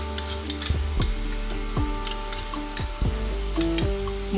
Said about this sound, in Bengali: সেই সম্পূর্ণ মশলাটা কড়াইয়ের উপরে আমরা যোগ করে দেবো